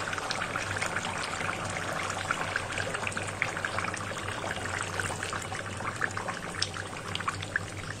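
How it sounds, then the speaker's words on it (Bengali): Water trickles and pours steadily into a cooking pot of braised duck meat, a continuous splashing stream with small droplet patters, running alone without any voices. "তো আমি এখানে পানি দিয়ে দিব।"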